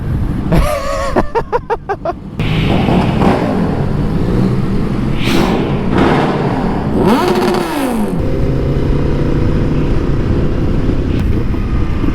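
Yamaha motorcycles, including an R3, rev their engines before a group ride, with rapid throttle blips early on followed by a steady, loud idle and engine drone at close range, briefly rising in pitch mid-clip.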